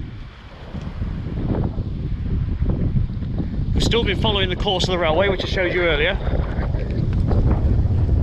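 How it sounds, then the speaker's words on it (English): Steady blustery wind roars against the microphone with a broad rumbling wash of weather noise and heavy rain beside the Nottingham Canal, while someone talks briefly over it. "Apologies for the wind, it's just started raining quite heavy and the wind's picked up alongside it"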